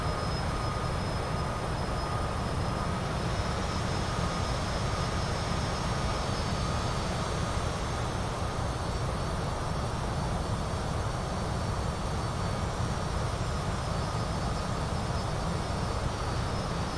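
A CJ4 business jet in Microsoft Flight Simulator 2020 cruises at altitude, its engines making a constant, even broadband roar with a faint high whine, unbroken for the whole stretch and with no voices.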